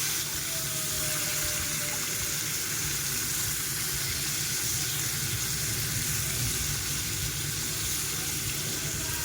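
Fish frying in a hot pan with steady loud sizzling, a soft scrape as the pieces are turned, continuous and close.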